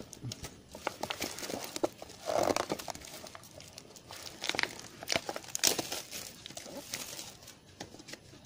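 A small gift box is unwrapped and opened up close, with quiet crinkling and rustling of packaging and a few sharper tearing and crunching handling noises scattered throughout.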